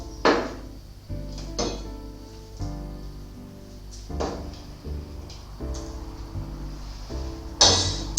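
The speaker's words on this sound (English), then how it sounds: "You just ladle some out into a bowl." Nettle soup is ladled from a pot into a bowl, with a handful of separate metallic clinks and scrapes against the rim and soft liquid pours between them, close and fairly quiet.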